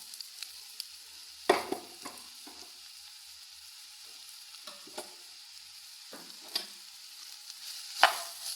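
Bitter gourd fries in coconut oil in a pan with a soft steady sizzle, broken by several louder scraping stirs of a spoon at irregular intervals, heard close with no talk.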